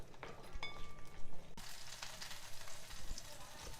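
Green chilies torn in half sizzle in hot oil for a coconut chutney, a steady crackling fry that swells briefly and then settles into a softer, even sizzle.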